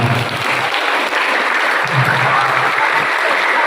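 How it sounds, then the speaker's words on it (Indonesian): School students applauding in a hall at a junior high motivational session, a loud, steady wash of many hands clapping without pause. "Sekali lagi tepuk tangan buat anak-anak hebat"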